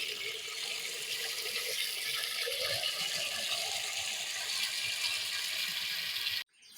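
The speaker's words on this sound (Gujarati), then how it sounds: "હાલો તો આપણે નળ ચાલુ કરી દીધો છે અને પાણી ભરાવા માંડ્યું છે" A tap runs steadily into a water tank, a continuous rushing, splashing flow that fills the scene before cutting off abruptly at the end.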